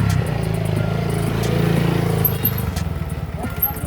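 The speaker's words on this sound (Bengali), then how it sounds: "আমরা এমন সময় বাইক দিয়ে যাচ্ছিলাম এই রোডটা দিয়ে" A motorbike rides along an open road near a village bazaar and mosque in Naria, Shariatpur, its engine droning steadily and close by, with a muffled rumble of road and wind throughout.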